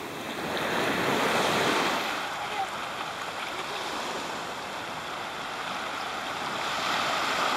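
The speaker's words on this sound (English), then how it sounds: "Uh-oh, here comes the waves." Ocean waves wash onto a beach on St Maarten. A loud surge of surf swells and breaks, then settles into a continuous rushing wash, with some wind buffeting the microphone.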